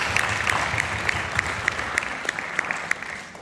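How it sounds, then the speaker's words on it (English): An audience claps together at a film event honoring the Rams and Kenny Washington, dense steady applause with distinct individual claps popping out, moderately loud and without talk. "So I really want to give the Rams another round of applause."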